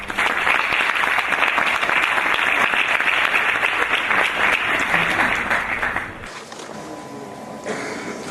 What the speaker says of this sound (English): With big round of applause, Mr. Tariq Al-Barwani, I would like you to come up on stage.